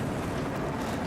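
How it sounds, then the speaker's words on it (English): Loud, steady wind roars without a break in the horror video game Silent Hill 2 (2024), a dense, continuous rush of noise with no voices. "loud wind."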